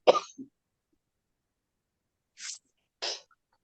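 At a devotional satsang gathering, a single person coughs and clears their throat in short bursts: one harsh cough with a small follow-up, then two more brief coughs after a pause, close and otherwise surrounded by silence.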